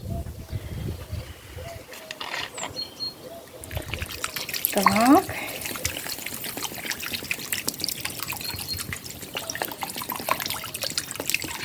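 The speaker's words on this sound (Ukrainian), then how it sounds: "Ми наливаємо води, щоб на два пальця просто покрила нашу м'ясо" Water pours steadily into a pot of meat for Georgian kharcho soup, a continuous splashing trickle up close, with a brief spoken word near the start.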